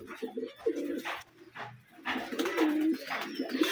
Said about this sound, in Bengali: এটা হচ্ছে গোলা কবুতর।